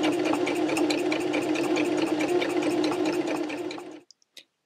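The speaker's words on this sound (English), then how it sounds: "Guide that through your machine, stitching on the same stitching line." A sewing machine stitches a rolled hem in one steady, fast, loud run of needle strokes for about four seconds, then stops, leaving a couple of faint clicks.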